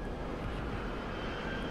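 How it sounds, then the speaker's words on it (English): A jet aircraft passes overhead in a video game, a continuous engine roar that stays even and moderately loud for the brief moment, with no talk over it. "Oh, I hear Jet."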